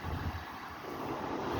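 Strong, steady wind roars and buffets the microphone on a city street on a blustery early-April day, a continuous broadband rush with no pauses and no voices.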